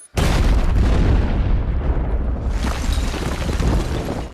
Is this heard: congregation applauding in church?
no